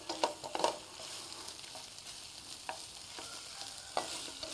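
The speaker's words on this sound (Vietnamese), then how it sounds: "mình xào sơ qua vậy nè, rồi mình cũng để vô nồi nước súp mình nấu luôn, xào vậy cho con tôm nó thơm." Shrimp are stir-fried briefly in a pan to make them fragrant for a bún riêu soup. The sizzle holds steady under repeated clinks and scrapes of stirring, with no talk.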